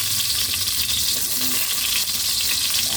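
Garlic sizzles steadily in a hot pan while cooking ginataang tilapia, a close, loud and continuous frying hiss with faint stirring beneath it.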